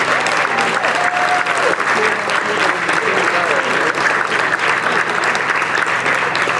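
Audience applause at a 40th anniversary gala welcoming New York State Comptroller Tom DiNapoli, a dense, steady clapping crowd filling the room, loud and continuous throughout with faint voices and a brief whistle mixed in.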